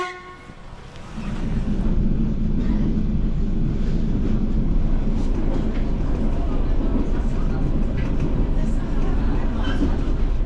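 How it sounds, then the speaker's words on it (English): A Soviet-era train rolls past close by, a dense, loud rumble and rattle of wagons that swells after the first second and holds steady, with faint voices briefly at the start. "Wow, a Soviet era train."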